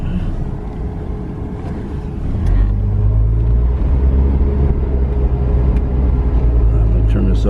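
Cars pass on a road near Disneyland's Downtown Disney area, with steady engine rumble and tire noise that swell as a vehicle draws close. Someone talks over the traffic.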